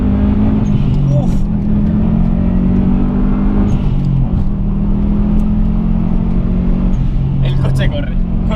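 A Subaru WRX STI Impreza drives and accelerates, its engine droning steadily and loudly from inside the car with a few rises in pitch, and someone talks over it.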